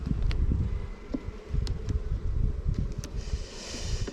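Honey bees buzz at an open hive during acacia bloom, a steady close hum of many insects with a few louder individual passes and faint wind.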